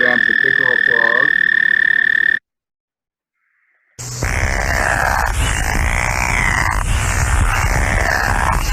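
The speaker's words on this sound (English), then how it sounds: "Go down to the pickerel frog." Pickerel frogs call in a vernal pool, a steady low snoring croak chorus that fills the second half after a brief silence, with a short steady tone at the start.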